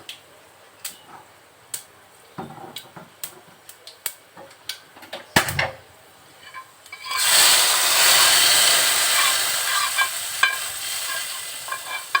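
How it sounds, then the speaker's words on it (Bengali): Hot tempering oil poured into boiled mango chutney with salt and sugar, first a run of sharp clinks and taps, then a loud sudden sizzle that holds steadily to the end. "এখন আমি সেই আম সেদ্ধ লবণ চিনি দেওয়ার ভিতরে এই বাগারের তেলটা দিয়ে দিব"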